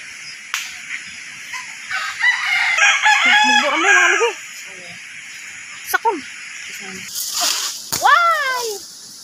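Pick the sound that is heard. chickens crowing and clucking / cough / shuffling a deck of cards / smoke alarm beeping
chickens crowing and clucking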